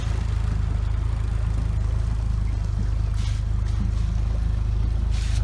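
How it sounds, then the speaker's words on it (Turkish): A motor boat runs on the water off Zeytinli Kuyu beach near Milas, its engine droning loud and steady with a constant low rumble and faint water wash, no talk. "Şimdi teknemiz burada gidiyor."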